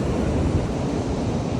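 Powerful ocean surf roars continuously at close range, a dense, loud wash of breaking water mixed with gusts of wind hitting the microphone, no voices.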